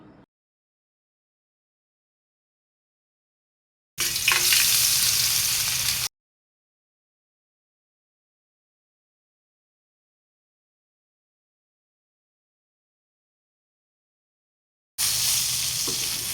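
Rohu fish sizzling as it fries in hot oil on a flat iron pan, a steady crackling hiss that bursts in for about two seconds, falls silent, then returns near the end.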